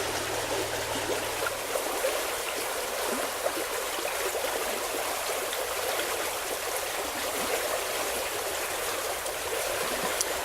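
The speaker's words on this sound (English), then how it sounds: "from there they flow into a continuous spring-fed stream. It is a trout stream." Spring-fed trout stream flowing steadily through woods on a warm fall day, a continuous close rushing and trickling wash with no voices.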